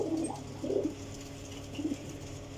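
Sialkoti racing pigeons cooing in a loft, soft low throaty coos in a few separate bursts over a faint steady background hum, close and calm, with no talking.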